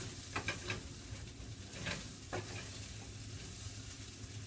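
Chicken fried rice being stirred in a hot pan: a steady sizzle with intermittent scraping and tossing strokes, close and fairly quiet, no talking.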